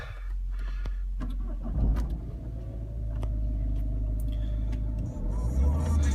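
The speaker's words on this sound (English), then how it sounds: "So I'm now going to just start the car up." A Peugeot 307 station wagon's engine cranks briefly, catches and settles into a steady low idle rumble, close and continuous, with a few small clicks from inside the car.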